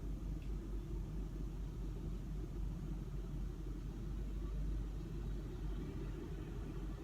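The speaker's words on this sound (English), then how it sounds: "Do you hear that noise? You know what that is? That's the butt cooler." A steady low whirring hum of the seat ventilation fan inside a Lexus RX450h F-Sport cabin, constant and unbroken without voices.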